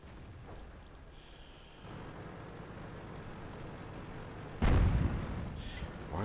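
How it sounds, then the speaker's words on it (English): In World of Tanks, a tank cannon fires a single heavy, booming blast that rolls off into a rumbling tail over a steady low engine drone. "Why are they shooting at me?"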